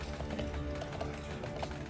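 Hooves clip-clop at a steady galloping rhythm from a horse in an Overwatch or Paladins game, with busy game sounds and music beneath, loud and continuous throughout.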